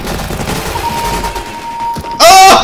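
Gunfire from a shooter video game breaks out near the end as a sudden loud rapid burst, following a quieter stretch of game ambience and a thin sustained electronic tone.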